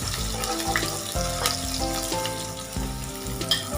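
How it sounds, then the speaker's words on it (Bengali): Onion and green chilli frying in a pan, a continuous close crackling sizzle broken by the scrape and clatter of a spatula being pushed around the metal, quite quiet and with no talking. "একটু ভাজা ভাজা হোক।"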